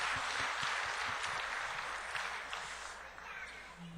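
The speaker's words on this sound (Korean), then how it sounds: "저희가 박수로 한번 환영하겠습니다." A church congregation gives soft, steady applause welcoming newcomers during a family worship service, a short burst of clapping that thins out toward the end, with faint murmuring underneath.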